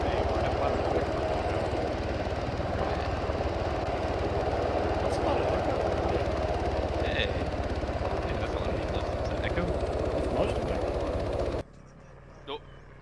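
A helicopter in a military combat video game drones with a steady, loud rotor and engine roar that cuts off abruptly near the end, with voices talking over it.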